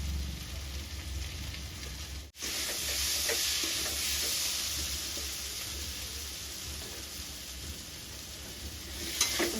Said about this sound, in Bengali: চলো আমি ভালো করে এটা এখন কষিয়ে নিই